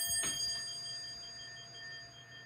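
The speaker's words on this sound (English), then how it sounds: "There, we rang the dinner bell." A dinner bell rings once with a sharp strike, its bright metallic tone ringing on and slowly fading in a quiet room.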